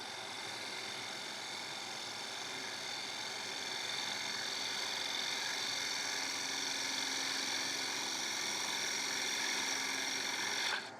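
A wood lathe turning a piece of wood while the tool takes a light pass of about two millimetres, a steady broadband whirring hiss with constant motor hum throughout, cutting off abruptly at the end.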